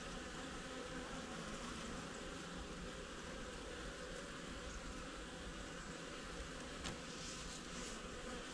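Honey bees buzz around an opened hive during a trickle treatment, a steady, dense drone that stays at an even level throughout, with no speech.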